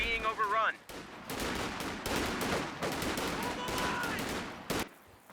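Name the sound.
rifle squad gunfire in Company of Heroes 2 video game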